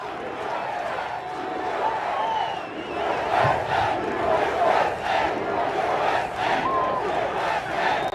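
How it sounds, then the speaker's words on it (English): A large rally crowd in Iowa roars with sustained cheering and shouting, a dense wall of voices that swells and holds steady for the whole stretch without any clear break. "What a crowd."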